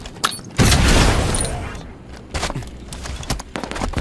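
Halo 5: Guardians gunfire during online multiplayer: a loud burst of rapid shots and booming impacts, then scattered sharper cracks and thuds from the game's combat.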